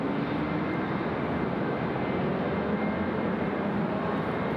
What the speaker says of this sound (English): Forward to the A380, clear for takeoff. Takeoff off the A380.